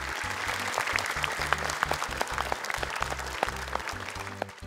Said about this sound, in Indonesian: Tepuk tangan dong untuk mereka.